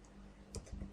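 A few sharp computer mouse clicks while choosing the Insert tab in Microsoft Excel, close and crisp, with a quiet steady hum underneath and no talking.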